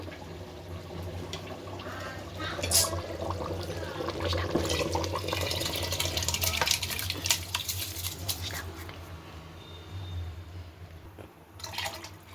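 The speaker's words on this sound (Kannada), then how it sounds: "ಈಗ ಅಕ್ಕಿ ಹಾಕ್ತಾಯಿದ್ದೀನಿ" Washed, soaked rice tipped into a country chicken biryani pot, heard as close wet pouring and sloshing with water splashes and a few clinks, moderately loud and uneven, with no talking.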